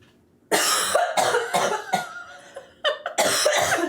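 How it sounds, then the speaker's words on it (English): A hard coughing fit after inhaling powdered sugar, several harsh bursts in quick succession with a short pause, then more coughs, close and loud. "So I have a cough attack."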